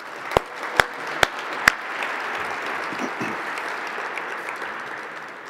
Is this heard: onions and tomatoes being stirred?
no